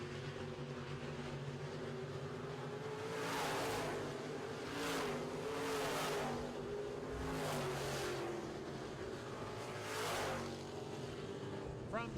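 Midwest modified race cars on a dirt track, engines droning continuously with several louder surges as cars roar past nearby, rising and fading in passes over a steady engine hum.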